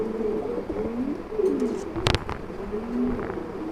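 A pair of black Barak Beauty pigeons coo in low, repeated throaty phrases, close by, with a brief sharp rustle or flutter midway through.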